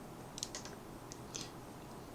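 Typing on a computer keyboard, a few faint quick key taps in two short clusters over a quiet background hum.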